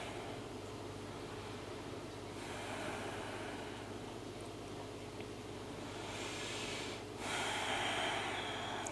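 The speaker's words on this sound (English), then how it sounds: "Breathe here." Close, steady breathing during a right-leg hamstring half-split stretch in a quick morning routine, long airy inhales and exhales over a soft noisy background with no talking.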